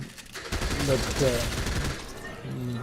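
Bursts of gunfire in Fortnite, with rapid overlapping shots and a wash of game action filling most of the short stretch, a voice briefly audible mixed in.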